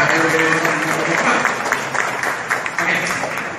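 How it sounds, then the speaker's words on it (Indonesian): A seated audience at an interfaith talk show applauds steadily, a dense wash of clapping that stays loud and fairly close, with a voice speaking over it. "kita sekali lagi tepuk tangan untuk Bapak-Bapak RW."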